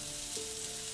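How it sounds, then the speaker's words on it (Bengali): Chopped garlic hitting hot white oil in a wok, a steady close hiss of frying for about a second with a faint tone running through it, no voices. "এবার কড়াইতে সাদা তেল দিয়ে গরম হলে দেব রসুন কুচি।"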